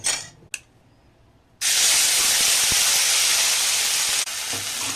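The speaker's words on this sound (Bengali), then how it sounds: "এবার বেটে রাখা মশলাটা এই তেলের মধ্যে দিয়ে দেব তেল কিন্তু আমার গরম হয়ে গেছে" Ground spice paste for a pea and mushroom curry hits hot oil with a sudden loud burst of sizzle after a brief pause, then keeps hissing steadily and strongly to the end.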